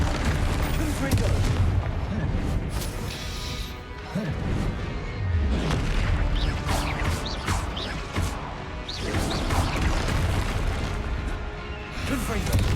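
Confringo blasting-spell explosions in Hogwarts Legacy burst again and again, loud booming crashes spread across a busy game battle, with speech mixed in among the blasts.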